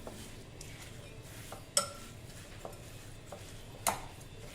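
Green chili pickle being stirred with spice masala and jaggery, soft scraping of a spoon in a pot with two sharp clinks against the vessel, quiet and close, no talk.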